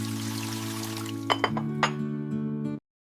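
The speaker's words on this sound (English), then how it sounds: "I wash the dishes." Dishes clink while being washed, a few sharp glassy chinks over running water and a steady tonal hum that cuts off abruptly, no talk.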